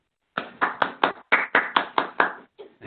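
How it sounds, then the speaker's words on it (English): A small group claps at the close of an identity theft webinar, about eight distinct, evenly spaced claps ringing out near and alone before trailing off. "Round of applause."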